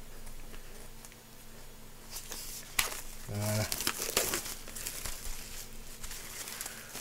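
A plastic sleeve on a vinyl record crinkles in a short, quiet burst of rustling close by, against a faint background hum.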